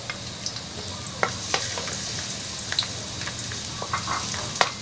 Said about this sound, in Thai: ใส่กระเทียมเจียว เจียวนะคะใส่กระเทียมลงไปเจียว